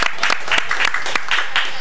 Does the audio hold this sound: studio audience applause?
yes